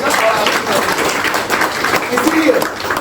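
Audience applause at a Hindi-language direct selling business event, a burst of crowd clapping heard alongside someone speaking over it.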